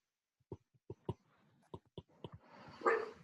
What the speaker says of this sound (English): Sorry, my dog hates the postman.